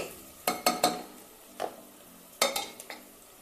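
Onions and curry leaves cooking in a pan, with a few sharp spoon scrapes and clinks against the pan in two short clusters, close and fairly loud over a faint background.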